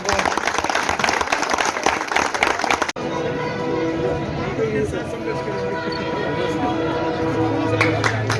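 Dense, loud applause from an audience at an Aam Aadmi Party women's wing office opening in Delhi fills the first three seconds, then cuts to a steady murmur of crowd noise and background hum.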